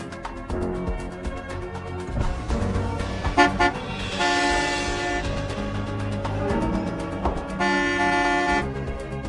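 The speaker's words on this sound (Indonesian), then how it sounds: "Klakson apa sih? Nggak lihat macet di depan?" A vehicle horn blares in sustained, loud blasts amid traffic, overlapping with layered tonal background sound throughout.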